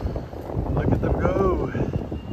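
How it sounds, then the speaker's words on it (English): Strong wind buffets the microphone beside the Han River in Seoul, a steady low rumble and rush running the whole time, with faint voices and a distant engine-like drone mixed in. "Lots of wind today."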